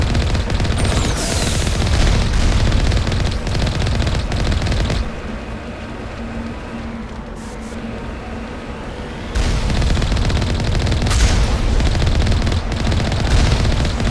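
Sniper and mercenary gunfire in the Mass Effect video game, dense loud bursts of shots and booms for several seconds, a quieter lull in the middle, then heavy firing resumes.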